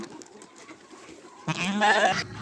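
Sheep on a village farm let out a loud, wavering bleat that starts abruptly halfway through and holds for nearly a second, after a stretch of quiet farmyard background.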